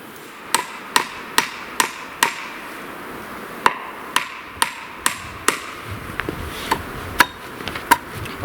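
A hammer drives a nail into wood to hold a sable trap and bait, about fourteen sharp, close blows landing at a fairly regular pace with short pauses between them.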